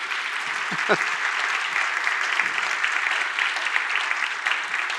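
A church congregation applauds during a sermon with a sustained, even roar of many hands clapping. The sound fills the room at steady volume for several seconds.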